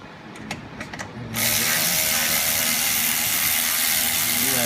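A 7/16 socket on a ratchet working a bolt on a 6.0 Powerstroke engine, a few quick ratchet clicks followed by a loud, steady mechanical whir that runs to the end, close up.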